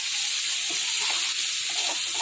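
Spice paste frying in oil, the oil separating from the masala, gives a steady broadband sizzle and hiss with faint stirring scrapes, heard alone and close.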